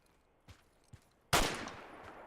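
Gunfire at a shooting training session in the military video game Project Reality: two faint soft thuds, then one sharp, loud shot bursting out and ringing into a decaying echo.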